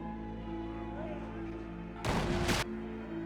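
Gunshots from the 2004 film Dawn of the Dead fire in a loud, sharp burst lasting about half a second, breaking through a quiet, humming background of film sound.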